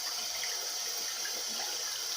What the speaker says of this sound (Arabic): افتح عليه الحنفيه اهو